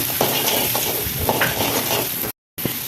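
Onions fry in a pan for a street-style mushroom dish while being stirred, a dense close sizzle with a few soft scrapes, briefly cut to silence near the end.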